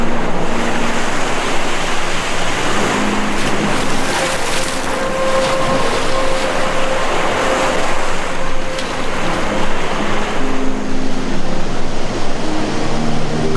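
Sea waves in the Caribbean, a steady broadband wash of surf and wind at full loudness, with a faint tonal hum drifting through the middle and no voices.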